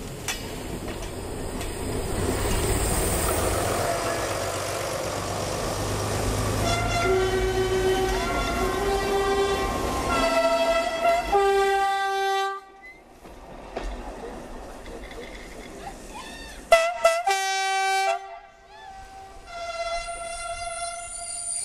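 An X4567 railcar passes on the line between Carnoules and Gardanne, its engine rumbling up close before several loud, sustained horn blasts ring out, with a brief quiet gap between them.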